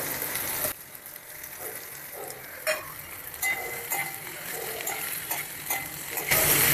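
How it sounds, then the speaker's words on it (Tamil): Onion and potato frying together in a pan for a Rameshwaram-style dosa masala, a steady close sizzle broken by occasional scraping stirs, with a louder burst of frying at the very end. "இப்போ ஆனியன் அந்த பிங்க் கலர் வர அளவுக்கு ஃப்ரை எடுத்து இப்போ நம்ம வந்து இந்த பொட்டேட்டோ உருளைக்கிழங்கை வந்து போட்டுக்கலாம்"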